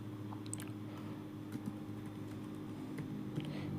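Soft, quiet clicking of a computer keyboard as an Excel formula is typed, with scattered light keystrokes over a faint background hum.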